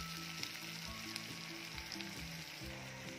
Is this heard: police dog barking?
no